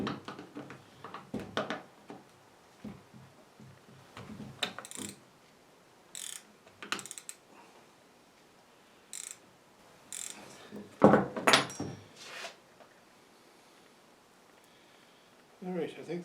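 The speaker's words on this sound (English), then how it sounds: "So I have a 1/4 inch shank screw I'm going to put in there, and I'm putting a nylock nut on the back of it" A nylock nut is turned onto a 1/4 inch shank screw, giving short bursts of ratcheting, clicking metal mechanism sounds at close range, separated by quiet pauses, with a person speaking between them.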